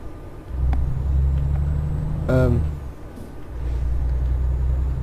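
A Volvo truck in Euro Truck Simulator 2 rumbles at low idle-like pitch, broken midway by a sharp hissing burst like an air brake release, then the engine drone resumes; fairly loud and close.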